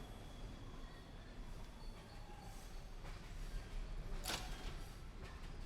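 Train ride in the Bendy and the Dark Revival video game: a steady low rumble of rolling rail cars with a brief bright squeal or hiss partway through, no talk.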